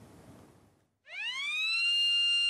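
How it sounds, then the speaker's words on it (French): At a Seveso-classified oil depot on boulevard du Général Leclerc, a warning siren sounds during a fire simulation exercise. After a brief hush it rises into a loud, steady wailing tone that holds to the end. "La sirène du dépôt pétrolier situé boulevard du Général Leclerc a retenti en début d'après-midi"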